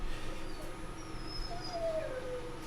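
A dog whines softly in a few thin, drawn-out whimpers that rise and fall, faint over a steady low background hum.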